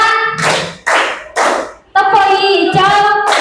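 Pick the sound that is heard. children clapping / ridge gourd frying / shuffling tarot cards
children clapping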